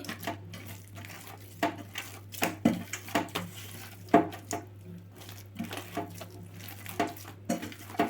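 Naan dough is mixed with oil in a bowl by hand, giving soft, irregular taps, squelches and light clinks against the bowl over a steady low hum in a quiet kitchen.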